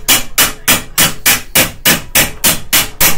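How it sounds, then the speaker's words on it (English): A hammer strikes a metal bar to shape a bent seam, about ten sharp ringing blows in an even, steady rhythm, loud and close with no talk. "So I took my bar and my hammer,"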